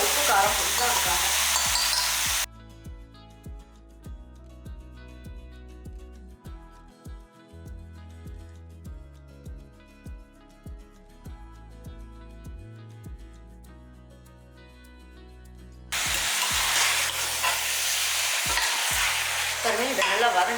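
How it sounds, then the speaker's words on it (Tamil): Country chicken kulambu masala sautéing in a pan, loud sizzling and frying at the start and end with stirring scrapes in between over soft background music. "பாருங்கள், இதை நல்லா வதங்கட்டும்."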